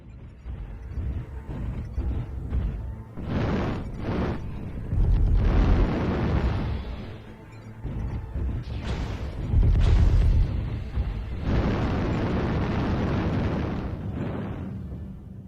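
Mech weapons chain-firing in a light-mech combat video game, heavy booming explosions and bursts arriving in irregular waves, some dense and rumbling, others sharper, loud and close with no speech.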